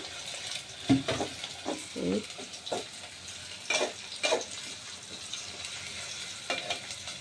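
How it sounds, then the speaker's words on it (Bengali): Onion, chili and spices sautéing in oil in a home kitchen pot, with a steady low sizzle broken by several scraping stirs and clanks of a spoon against the vessel. "এখন এখানে তেল মরিচ পেঁয়াজ দিয়ে এখন রান্না করার জন্য কষানি শুরু করলো"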